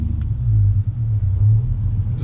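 A Nissan 350Z drives along, its low engine rumble steady and close from inside the car, rising and dipping slightly, with no talk.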